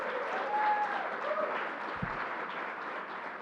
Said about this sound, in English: Let's give Stephanie Johnson a big round of applause